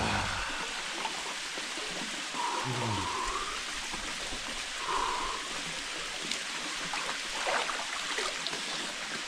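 Mountain waterfall pouring into a rocky plunge pool in November, a steady broadband rush of falling water heard fairly close, with a couple of brief faint whistling tones passing over it.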